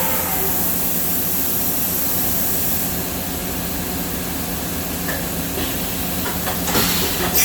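A Mighty Pro 1000 AG CNC vertical machining center with a Fanuc 18i control runs at full speed, a loud, dense, steady mechanical roar and whine that holds evenly throughout, with a few brief brighter bursts near the end.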